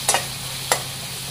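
Green peas frying in oil give off a low, steady sizzle, broken by two sharp spatula scrapes as they are stirred, close to the pan.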